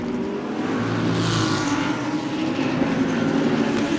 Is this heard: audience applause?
no